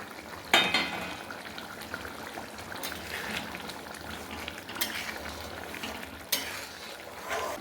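Soya chunks and sugar being stirred into softened potatoes in a frying pan for an egg-and-soya curry: a steady low sizzle and bubbling, with a sharp spoon-on-pan clatter at the start and a few scraping knocks later, no voices.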